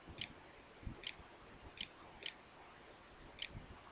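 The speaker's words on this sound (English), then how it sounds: "You see that I am typing the answer" Computer keyboard keys tapped in a few sparse, separate clicks at a steady pace, quiet and close, with no talking.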